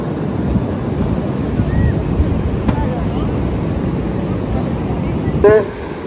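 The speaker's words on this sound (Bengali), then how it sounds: "এখন দেখো কত বেশি জোয়ার হয়ে গেছে" Rising-tide sea waves wash steadily onto a Goa beach in a constant broad surf roar, mixed with wind buffeting the microphone, while voices are faintly heard nearby.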